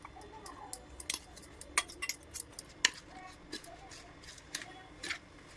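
Black salt, turmeric and ground roasted spices are stirred into red chillies for pickle, with scattered clinks and scrapes of a spoon against a metal or glass bowl, close and quiet.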